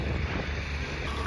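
Steady, loud wind buffeting the microphone during a paragliding flight over Bir Billing, Himachal, a dense roaring rush with no break.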